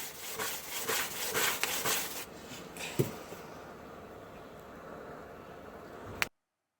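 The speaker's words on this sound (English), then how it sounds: "we are drying off the decked area so we can put some linseed oil into the decking" Burnt-off wooden garden decking is rubbed dry with rhythmic, scratchy strokes that fade after a few seconds, followed by a single knock and a quiet, faint stretch.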